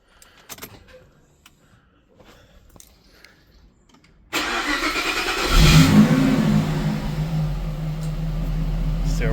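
Faint clicks and jingles lead into a car engine cranking and catching, then revving loudly before settling into a steady, rumbling idle up close.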